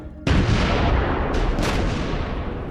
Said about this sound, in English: Now they're shooting at us. Artillery.